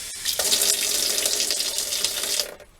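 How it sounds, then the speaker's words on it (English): Cold supply water rushes through a Vevor 8 kW tankless water heater, making a loud, steady hiss that holds for over two seconds before cutting off, with no voices. "the water from the cold supply flows through the water heater and pushes out all the air"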